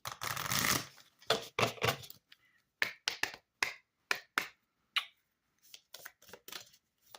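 Oracle cards are shuffled: a dense riffling burst, then a string of short, crisp taps and slaps as cards are dropped and squared, close and fairly quiet with no talking.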